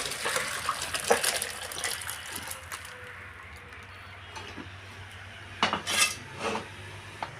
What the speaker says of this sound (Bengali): ডালটা ঢেলে নিচ্ছি।